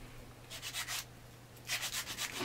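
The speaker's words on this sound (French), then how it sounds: "pendant que BBL donne un petit coup de ponçage" Wood is being sanded by hand in a workshop, with rhythmic back-and-forth rubbing strokes in two short bursts separated by a pause, fairly quiet and close.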